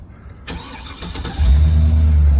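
A 1977 Chevy Monte Carlo with a 6.0 turbo LS swap and 255,000 miles cranks briefly, catches, and settles into a steady low idle, close and fairly loud.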